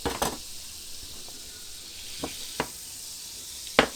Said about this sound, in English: Just want to melt a bit of butter up and throw in a julienne of carrot